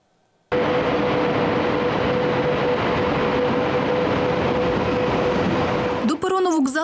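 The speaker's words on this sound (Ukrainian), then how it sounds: "до Львова прибуває потяг із Запоріжжя" Passenger train arriving at Lviv station from Zaporizhzhia, a steady loud rumble with a sustained tonal whine lasting several seconds, close by, then a voice speaking at the end.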